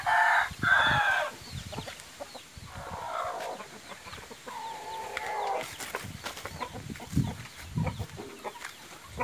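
Young fighting cocks kept for sale cluck and crow close by, with several overlapping calls and crows rising and falling over a busy farmyard background.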